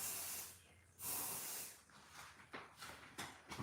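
Hairspray hissing from an aerosol can during at-home hair styling, in several bursts: a long spray at the start, a strong blast near one second, then shorter puffs toward the end, close and moderately loud.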